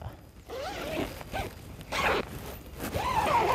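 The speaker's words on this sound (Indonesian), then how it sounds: "resleting dia sudah dilengkapi dengan velcro" A zipper on the door of a Bigadventure Krakatoa 3 tent is pulled open in several quick rasping strokes, close and clear, with brief pauses between pulls.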